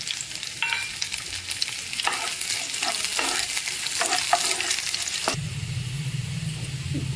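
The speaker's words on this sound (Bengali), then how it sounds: "এবার আমি এখানে অ্যাড করছি পাতলা করে কেটে রাখা প্রায় একটা মতন গোটা রসুন। এবার আমরা ভালো করে এটাকে ভেজে নেব।" Thinly sliced garlic, about one whole bulb, sizzles in a pan as a utensil scrapes and stirs it in repeated strokes. Partway through, the stirring stops and a steadier sizzle with a low hum takes over.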